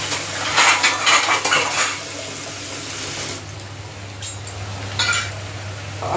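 Plates and cutlery clatter and scrape in a home kitchen, with a sink or tap running water at the same time. Several loud clinks come close together early on, then a few sparser knocks follow over a steady background hum.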